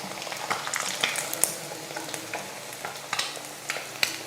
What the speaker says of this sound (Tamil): மீன் வந்து நல்லா பொரிச்சாச்சு, எடுத்துடலாம்